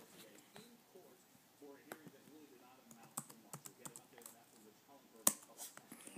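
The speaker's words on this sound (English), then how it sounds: "We're going to type live." Fingers type on a computer keyboard in irregular bursts of close, crisp clicks and clacks, with one sharper tap near the end and faint background murmur.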